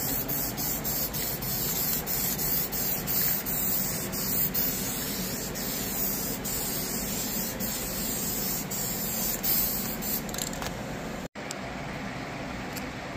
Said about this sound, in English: I'm gonna go ahead and put some guide coat on.